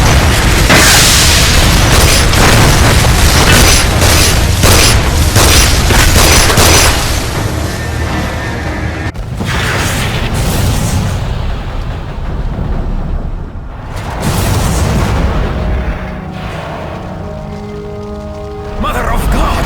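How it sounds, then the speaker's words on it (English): Explosive charges detonate in the Damnation video game, setting off a loud, heavy boom and a long rumbling rockfall that dies away into scattered debris and softer sounds. "Rourke! Pull the lever to detonate the charges!"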